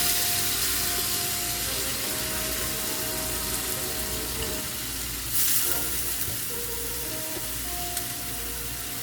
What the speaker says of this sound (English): always remember when you're putting stuff that might be wet yet in your pan where you get that sizzle